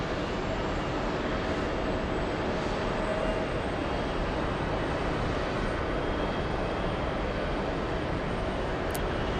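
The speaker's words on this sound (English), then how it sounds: "this American heavy takes off" An American Airlines heavy jet, flight 66 to Barcelona, takes off from New York with a steady, distant engine roar holding even throughout, with no talk over it.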